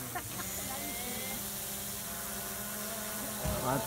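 A drone hovers above an outdoor stage in Hiehiyama, Shodoshima, giving a steady buzzing whine with harmonic tones that holds for several seconds at moderate distance, with a faint voice coming through near the end.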